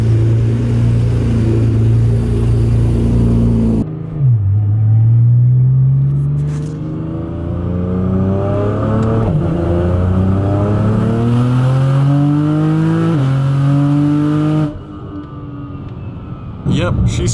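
A 1000-horsepower Nissan GT-R accelerates hard on a drive, its engine roaring loud and close as it climbs through several gears, each shift dropping the pitch before it rises again, then easing off near the end.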